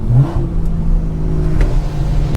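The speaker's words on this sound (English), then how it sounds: "I'm gonna mess around with my burbles just a little bit" A BMW 340i with a B58 engine and a very loud aftermarket exhaust revs up and settles into a steady idle rumble, with a couple of sharp pops near the end.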